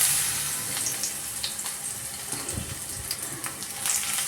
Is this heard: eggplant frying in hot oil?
yes